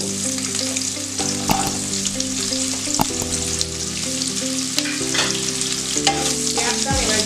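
Onions fry in hot oil with whole spices for a Bengali fish curry, giving a steady loud sizzle with occasional clinks and scrapes of stirring, no voices over it.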